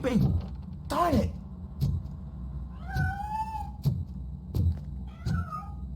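Cat meows in the video game RoboCop: Rogue City, several short, rising cries spread over a few seconds amid faint background game ambience and soft knocks.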